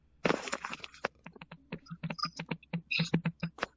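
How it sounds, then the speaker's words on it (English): Rapid clicky key taps on a phone, dozens in quick irregular succession, close and crisp with no talking. "he's like typing on his phone. It's so loud"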